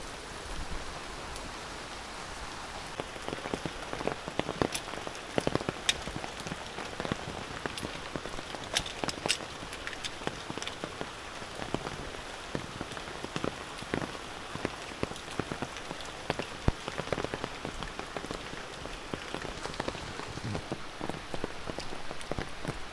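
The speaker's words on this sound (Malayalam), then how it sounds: "മഴയാ." Rain falls in a steady, even hiss of dense drops with scattered louder patters, continuing unbroken for over twenty seconds with no voices.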